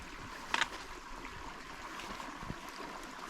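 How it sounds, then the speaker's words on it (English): A small moorland stream trickles steadily on a Peak District hike from Crowden toward Black Hill near Laddow Rocks. The flow is faint and continuous, with a brief rustle early on and no speech. "a couple of streams you've got to cross down here"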